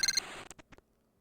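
A transceiver in Phoenix Wright: Justice for All rings with a short electronic chirping trill, then a few fading beeps, clear and close in an otherwise quiet moment.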